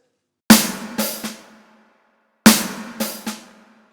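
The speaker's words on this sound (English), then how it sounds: "and then we're going to do the snare drum and a ghost note and then another ghost note" A snare drum fill with soft ghost notes on a new kit in a studio, heard as two short phrases of a sharp accented hit followed by quieter strokes, close and dry with clean silence between.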